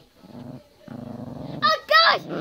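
A dog growls low and steadily, then breaks into two sharp, loud barks close by, with people's voices mixed in around the growling.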